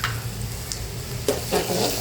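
Crushed garlic drops into hot oil in a frying pan, giving a brief steady sizzle with a couple of soft stirring scrapes over it.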